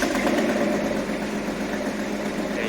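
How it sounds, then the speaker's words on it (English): A 1977 Datsun 280Z engine runs at a steady idle after starting, a continuous close mid-range hum with even, unbroken loudness and no talk over it. "let me start the engine up for you guys just one last time"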